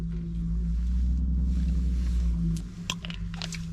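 Lay's Classic potato chips being bitten and chewed close by, sharp crunches breaking out over a steady low background hum.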